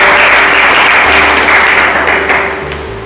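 A church congregation breaks into loud, dense, sustained applause that gradually eases off toward the end.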